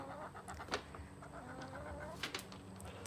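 Hens in a backyard garden coop cluck softly and intermittently, a few sharper squawks breaking through a quiet, low background with no talking.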